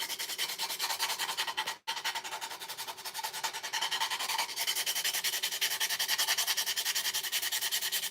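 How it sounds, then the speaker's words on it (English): Someone sands a big wooden heart for a primitive snowman craft. The strokes come as a steady run of quiet, close, rhythmic rasps, with a short pause near the start and no talking. "we also have to sand the big heart"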